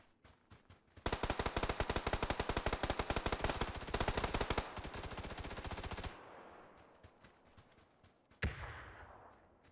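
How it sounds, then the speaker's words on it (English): PUBG gunfire in a console match: rapid sustained automatic bursts, loud and dense for several seconds, then fading into scattered quieter distant shots and one sharp late crack. "Lots of shooting."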